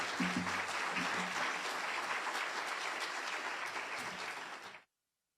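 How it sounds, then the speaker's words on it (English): Business luncheon crowd giving a round of applause, steady dense clapping with a voice briefly at the start, fading out and stopping abruptly near the end. "Let's give them both a round of applause."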